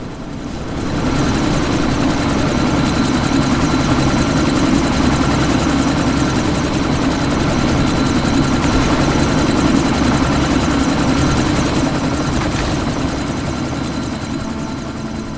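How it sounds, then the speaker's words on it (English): Helicopter taking off in the video game Deus Ex: Mankind Divided, a loud steady rotor and turbine roar that fills the whole stretch without a break, fading slightly at the end. "That chopper's about to take off!"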